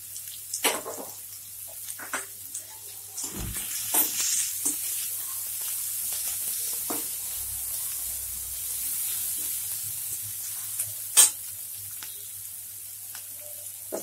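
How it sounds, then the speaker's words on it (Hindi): Sliced onions and green chillies frying in hot oil in a pan for veg chowmein, a soft steady sizzle with occasional stirring scrapes and clinks close by. "ऑयल गर्म हो गया है। प्याज डाल रही हूँ मैं सबसे पहले इसमें।"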